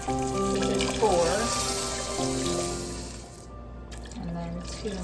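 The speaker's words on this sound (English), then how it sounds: "we're going to add 6 cups of water." Water poured by the cupful into a cooking pot of Louisiana red beans and rice with andouille sausage, a continuous close splashing stream that breaks off briefly near the end before resuming.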